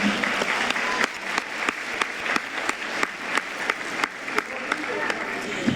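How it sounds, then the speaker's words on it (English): Steady applause from a sizable audience at a celebration dinner, dense clapping that holds at a consistent loudness throughout with no voices standing out. "Let's give our educators and our students a round of applause."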